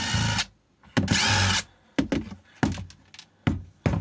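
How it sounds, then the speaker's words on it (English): A power screwdriver undoes Phillips head screws on a Hyundai 60VLIBAT25 electric lawnmower battery pack, with several short bursts of close, loud whirring separated by brief pauses and light clicks. "Phillips head screws. So I'm going to undo those."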